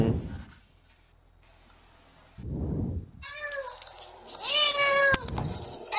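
A person imitates a cat with a few drawn-out, wavering meows, close and fairly loud, broken up by short breathy pauses and other nearby noises.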